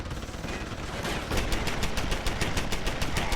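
An automated turret in the video game Deus Ex: Human Revolution fires a sustained, loud machine-gun stream of rapid, evenly spaced shots.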